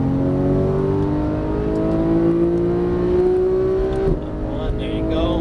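Porsche 991 GT3 engine pulls hard on a race track, its steady rising tone climbing through the revs before a sharp shift near the end, loud and close with an instructor's voice talking over it.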